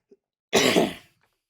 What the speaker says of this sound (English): I know you guys probably don't want to sit there and listen to me cough for 20, 25 minutes